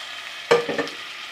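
Tomato paste made from two tomatoes hits a hot pan for a white chickpea curry, giving a short sudden hiss and a second smaller burst as it is stirred, then quieting.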